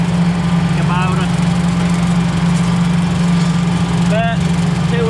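A Kubota M4800 tractor engine runs steadily nearby, a loud, even drone with no gaps that fills the whole stretch, while a voice talks faintly beneath it.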